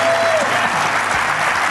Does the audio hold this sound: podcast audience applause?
yes